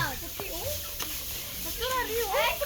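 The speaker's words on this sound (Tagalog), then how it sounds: "Chicken, so many." Many chickens cluck and squawk at a farm in Kampot Province, repeated bursts of clucking at close range, with speech-like voices blending among the calls.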